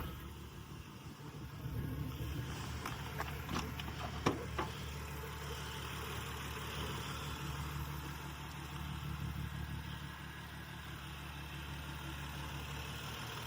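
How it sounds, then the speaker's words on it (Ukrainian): A 2012 BMW X5 E70 xDrive35i engine idles smoothly with an even, low hum, a few faint clicks and taps sounding over it partway through. "Двигун працює рівнесенько, просто як годинник."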